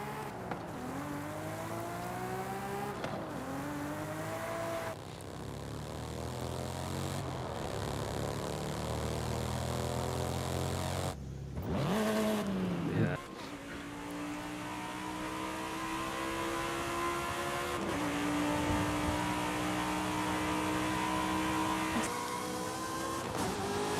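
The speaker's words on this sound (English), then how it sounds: "Let's showcase some of those car sounds." A car in the racing game Forza Horizon 5 revs and accelerates through repeated gear shifts, the engine note climbing and dropping in clear sweeps, loud and close, with no speech.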